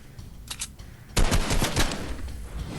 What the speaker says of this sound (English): Boy, those hand cannons are loud.